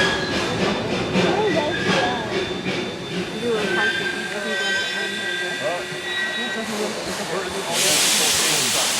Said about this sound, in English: Richie Hall on the old steam engine.